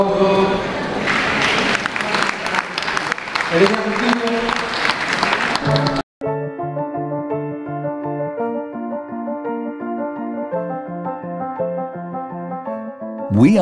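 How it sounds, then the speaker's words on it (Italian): Theatre audience at Milan's Teatro Dal Verme claps steadily and loudly for about six seconds before the sound cuts abruptly to calm, tonal music. "Qua ha fatto un applauso."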